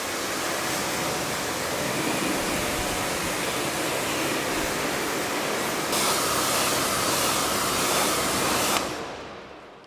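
Steady broadband rush of rinse water spraying over a Mercedes C63S AMG during a car wash, loud and continuous for nearly ten seconds before cutting off abruptly near the end.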